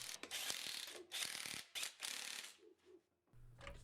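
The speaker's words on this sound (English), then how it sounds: "we're going to use our impact wrench for this one" Impact wrench snugging the rear wheel lug nuts on an S197 Mustang (2005-2014) in a garage, several loud rattling bursts separated by brief pauses, no talking.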